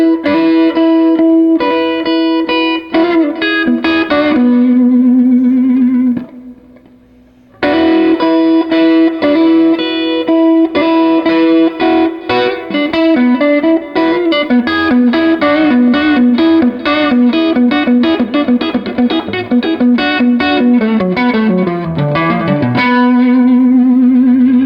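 Electric blues guitar lick with a distorted tone played in a slow blues style, with sustained bent notes and quick runs ringing loud and close, broken by a short pause partway through.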